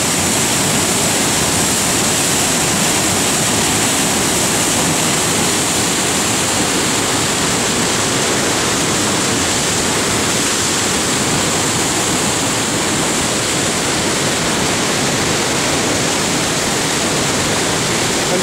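Piedras Falls roars as a loud, dense, unbroken wash of falling water, heard up close with no gaps or other sounds above it.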